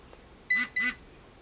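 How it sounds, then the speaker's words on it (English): A Nokta Makro Pulse Dive metal detector gives two short electronic beeps in quick succession, faint and clean against a quiet background. "Now 1 through 4 will be individual beeps for each level."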